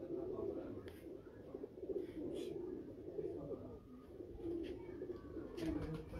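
Pigeons on a rooftop loft coo in a low, steady murmur that runs throughout, with faint chirps and bird calls rising above it now and then.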